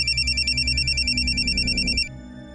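A telephone rings in a police station, a loud steady electronic trill pulsing rapidly for two seconds before cutting off, with a low hum behind.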